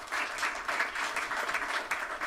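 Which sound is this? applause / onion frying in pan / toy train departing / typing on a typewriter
applause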